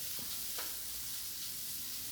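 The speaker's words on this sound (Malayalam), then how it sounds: "നന്നാക്കി ഇളക്കി കൊടുക്കാം" Egg curry masala, with tomato and a pinch of pepper powder, is stirred in a pan under a quiet, steady hiss of frying, with a couple of faint spoon scrapes.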